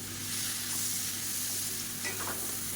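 Cubes of paneer fry with spice powder in hot ghee, giving off a steady, close, dense sizzle with a few brief crackles and no talking.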